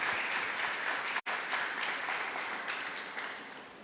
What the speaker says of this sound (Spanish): reciba este lindo aplauso de esta congregación